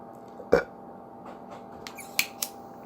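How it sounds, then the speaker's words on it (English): A short, close burp pops out over a quiet background, followed by a couple of faint clicks. "I just burped"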